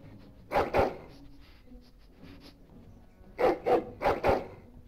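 A dog in the video game Dragon Age: Origins barks in two quick pairs, a double bark early on, then two more double barks near the end over a low background hum.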